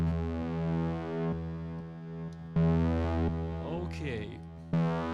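A detuned multi-oscillator synthesizer sustains buzzy distorted tones through reverb and delay, loud and continuous, with held chords switching every second or so and a brief swelling, warbling effect near the end.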